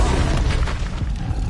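A Confringo explosion spell cast in the video game Hogwarts Legacy gives a deep, rumbling boom. It holds at a heavy, steady level for the whole moment, with no speech over it.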